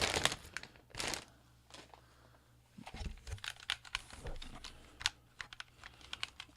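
A Sega Dreamcast item pulled from a plastic bag, with close, crisp crinkling and rustling bursts, a louder crackle at the start, then a run of smaller rattling crinkles.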